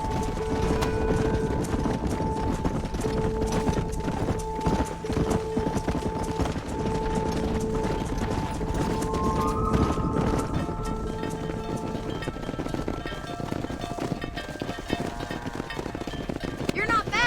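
Herd of horses galloping in the Red Dead Redemption video game, a steady rush of clip-clopping hooves running continuously under game music and occasional character speech.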